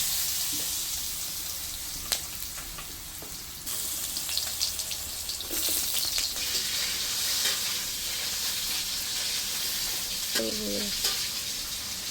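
Sliced potatoes fry in hot oil with cumin, dried chili and bay leaf, giving a steady, close crackling sizzle with occasional stirring scrapes and small pops throughout.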